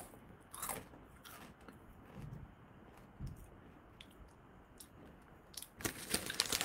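Crunchy bites into puffed, popped 100% cheddar cheese crisps, a few crackly crunches spread across the clip with quiet chewing between, close and fairly soft, no talking.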